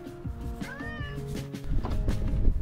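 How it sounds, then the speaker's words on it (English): A cat meows once indoors, a clear, rising-and-falling call, with low household rumble and handling noise around it and no talking. "I have a cat."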